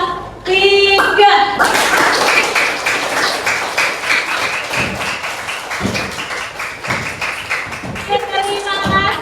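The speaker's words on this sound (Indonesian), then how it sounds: "kita akan menutup pembelajaran hari ini dengan tepuk tangan yang keras" A classroom of students claps loudly in a rhythmic run of sharp hand claps to close an Indonesian lesson, with voices heard just before and after the clapping.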